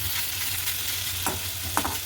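Onions frying in a pan, a close, steady sizzle with a couple of short stirring scrapes of the spatula and no voices.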